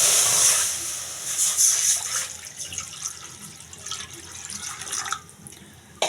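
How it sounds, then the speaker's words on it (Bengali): Water runs and splashes into a karai set on the stove for potato dal, a steady pouring rush that fades gradually over several seconds with no talking. "এবার দিয়ে দেব পানি।"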